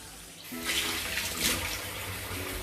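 Running water pours steadily into a container, a continuous splashing rush that swells slightly as it fills.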